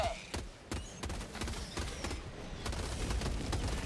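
Rapid bursts of explosive impacts and gunfire-like cracks from an Eagle airstrike in Helldivers 2, a dense barrage of repeated blasts with a few quiet gaps, close and loud.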